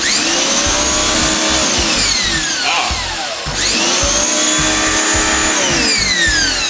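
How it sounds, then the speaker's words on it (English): Malfunctioning Simoniz pressure washer running loudly in two long cycles, each with a rising whine that sweeps and falls, over a pulsing, stuttering motor rumble, close and alone. "I'm having a lot of trouble with this stupid turd Canadian Simonized pressure washer, but it's doing this"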